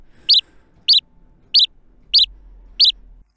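Five short, identical synthetic chirps imitating a house sparrow repeat at an even pace, each bright and sparrow-like, with near silence between them.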